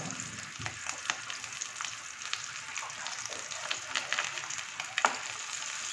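Fish roe frying in mustard oil in a pan gives a steady close sizzle with scattered crackles and a few sharper pops, and no voices over it.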